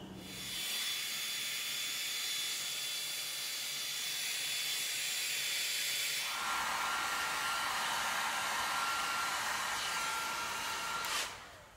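A torch heats a small metal piece clamped in a vise for heat treating, a steady close roaring hiss that grows brighter and louder about halfway through, then cuts off abruptly near the end.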